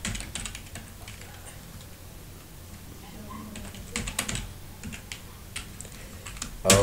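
Login details typed on a computer keyboard, scattered key clicks in short bursts, close and moderate, with a faint background hum and a loud clunk at the end.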